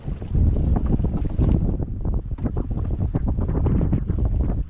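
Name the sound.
wind blowing over a fishing boat at sea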